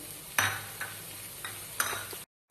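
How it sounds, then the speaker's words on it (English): A soft continuous sizzle of ginger paste frying in a wok, broken by a few sharp scraping stirs, close up, before cutting to silence. "I'm frying my ginger paste, not garlic paste."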